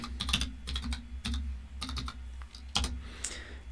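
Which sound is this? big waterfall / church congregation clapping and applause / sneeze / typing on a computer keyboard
typing on a computer keyboard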